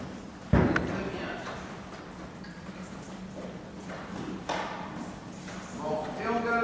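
A horse's hooves thud and clop on the ground during a riding lesson, with irregular footfalls under a trainer's steady spoken instructions.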